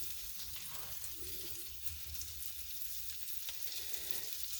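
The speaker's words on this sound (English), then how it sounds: "You got to make sure your burner is down on low, or that butter will burn." Butter sizzles softly in a pan over a low burner, a steady, faint, even frying hiss that continues without a break and has no talking over it.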